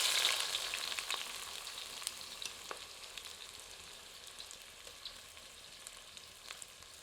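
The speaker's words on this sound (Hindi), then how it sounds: "इसे मध्यम आंच पर भूनते हैं ताकि प्याज का रंग सुनहरा दिखाई देने लगे।" Onion with whole spices such as chili and cinnamon frying in oil over medium heat, a dense close sizzle with crackling pops that gradually settles and softens over several seconds, no talking.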